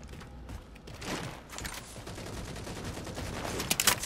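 Sticky launcher firing in Halo 4 online team slayer, a few muffled mechanical launches and clunks amid rattling game noise, fairly quiet, with sharper clicks near the end.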